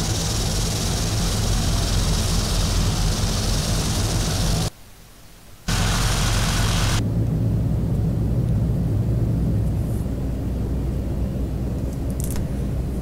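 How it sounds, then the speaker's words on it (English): An ATR 72-500 turboprop engine running in a flight simulator with the prop brake set and the propeller not turning: a steady, loud broadband roar with a brief drop to quieter hum, then the roar returning and thinning to a duller whoosh. "You can see that the propeller is not turning, but the engine is on"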